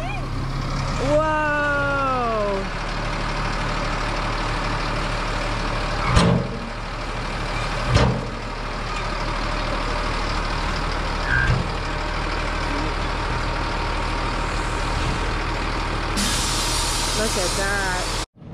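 A truck engine runs steadily while the truck reverses and unloads sand at a building site in an African village. The loud, continuous rumble dominates throughout, with faint voices and a few brief knocks over it.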